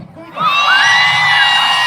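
After a brief quiet lead-in, a crowd at a live event bursts into a loud, sustained hoot on request, many voices blending into one drawn-out collective cry that holds steady to the end.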